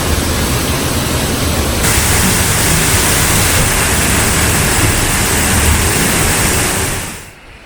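Waterfall at Hanging Lake, Colorado, roaring inside a small cave behind the falling water, a dense, loud, constant wash of noise that fades slightly at the very end, with no talk.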